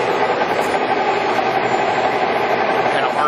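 A Carlton 4-foot by 13-inch radial arm drill runs at 682 RPM, giving a steady, loud mechanical hum and whir with even vibration throughout, no pauses or changes.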